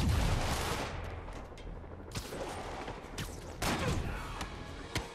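In the Spider-Man video game, gunfire is aimed at Spider-Man: scattered sharp shots and short bursts, fairly faint, set against a busy game soundscape.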